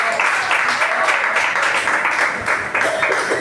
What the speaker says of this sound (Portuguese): Vamos receber o nosso irmão com as palmas bem alegre para